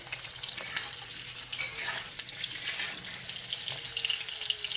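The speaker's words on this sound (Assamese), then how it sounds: "ফাৰ্ষ্ট মই এনেকৈ আলুখিনি ভাজি লৈছোঁ।" Steady crackling sizzle of potatoes frying in hot oil, with occasional scraping stirs; close and continuous, no voices.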